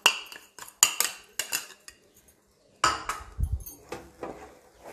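A spoon stirs sugar into a sooji ladoo mixture in a metal pan, producing a series of sharp clinks and scrapes in uneven bursts with a brief pause midway, close and clear.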